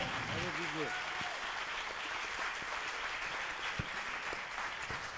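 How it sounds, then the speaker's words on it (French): Warm audience applause fills a hall at a Manif pour tous family and education policy event, a dense steady wash of many hands clapping; a voice speaks briefly at the very start over the clapping. "Vous pouvez l'applaudir chaleureusement."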